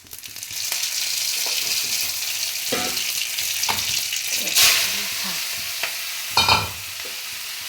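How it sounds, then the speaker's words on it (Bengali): Dried red chillies and poppy seeds frying in hot oil in a wok, a constant near sizzle broken by a few scraping stirs and brief louder spits, with no talking. "কড়াইতে তেল দিয়ে দিয়েছি এবার দেবো শুকনো লঙ্কা"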